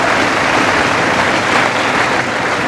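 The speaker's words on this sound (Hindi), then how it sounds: "एक बार खुद के लिए 4 जोरदार तालियां बजा दीजिए" Loud, dense clapping from a large coaching-class audience in an auditorium, a continuous roaring wash of hands with no pauses, filling the whole short stretch.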